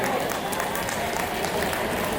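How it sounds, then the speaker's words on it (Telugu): An audience at a Telugu Ugadi panchangam reading claps in a dense, continuous burst of applause that stays even and moderately loud for the whole moment. "ఎంత పెద్దగా చప్పట్లు కొడితే అంతగా మీరు శ్రద్ధగా ఉన్నట్లు"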